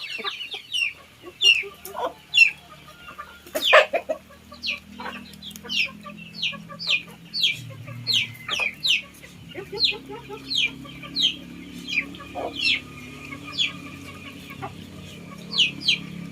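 Domestic backyard chickens raised for sale cluck in short repeated bursts throughout, fairly close and steady, with an occasional louder squawk and no talk.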